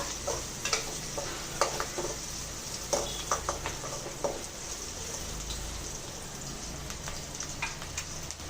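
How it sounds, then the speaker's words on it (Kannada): Turmeric powder frying in a pan for beetroot palya gives a steady close sizzle, broken by scattered scraping stirs of a utensil against the pan. "ಇವಾಗ ಚೆನ್ನಾಗಿ ಒಂದು 2 ನಿಮಿಷ ಫ್ರೈ ಮಾಡೋಣ."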